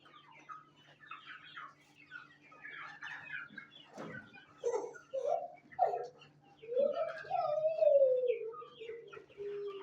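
Desi chickens and a rooster kept through the cold winter season call close by: scattered clucks and short cackles build into a longer, drawn-out crowing call near the end, with no talking.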